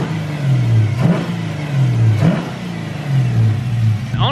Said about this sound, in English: Now I'm gonna give it some revs.